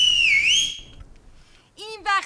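Person whistling, a loud, clear, wavering high whistle that swoops down and back up for under a second, then fades into quiet room tone before voices speak.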